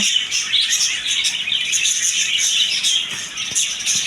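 Caged birds in a bird shop chirp and tweet continuously, with dense overlapping high calls filling the space and no voices.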